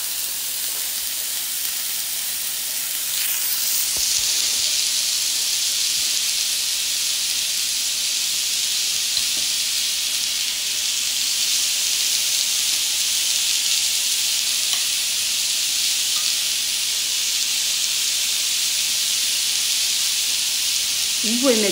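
Food sizzles on a powerful electric plancha grill, a bright, steady hiss and crackle that swells after a few seconds and continues evenly, with faint speech at moments.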